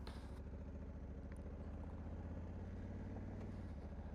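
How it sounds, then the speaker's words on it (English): A 2021 Honda Africa Twin DCT motorcycle rolling at low speed as its dual-clutch transmission engages, the engine giving a steady, close, low rumble that holds through the whole stretch with no pause. "I hope you're able to hear the clutch engaging"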